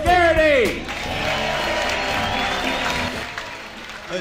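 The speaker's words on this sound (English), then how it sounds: "big round of applause for Pax and Garrity" A comedy club crowd applauds and cheers as comedians take the stage, a whoop or shout rising over the start before steady clapping continues at moderate loudness.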